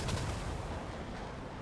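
A laser-guided bomb from an F-14B explodes in a flight combat game, a faint low rumbling boom that fades steadily over a second or so with no voices over it.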